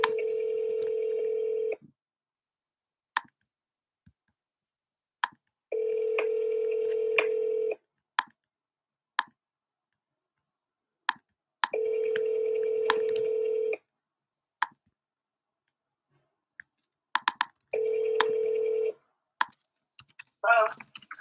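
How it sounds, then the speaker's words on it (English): Outgoing telephone call during live real estate cold calling: repeated steady ringback tones lasting about two seconds each, separated by pauses and sharp clicks, loud and close, with keyboard-like taps in between. "While I'm dialing out to her"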